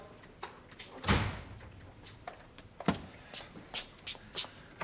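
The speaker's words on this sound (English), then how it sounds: "I'll show you to the door, Mike." A front door in a 1970s British terraced house closing as a visitor leaves: a solid thud, then a second knock and a run of lighter clicks and shuffling footsteps nearby.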